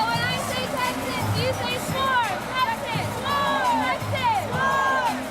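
Houston Texans fans cheering outside NRG Stadium at a team send-off, a loud steady crowd roar with repeated rising and falling whoops and shouts, and voices talking over it.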